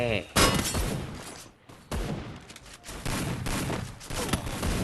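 Free Fire video game gunfire heard as dense, loud volleys of rapid shots with brief gaps, under a Thai player talking over the action.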